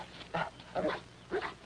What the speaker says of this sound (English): Nice dog.